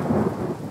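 A low, rumbling roll of thunder before rain sounds loud and continuous, filling a brief moment with a deep, steady growl.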